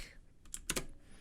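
Several quick keystrokes on a computer keyboard, close and fairly quiet, forming a short burst of sharp clicks with one louder double tap in the middle.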